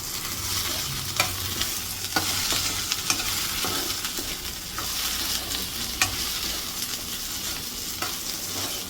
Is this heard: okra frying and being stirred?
yes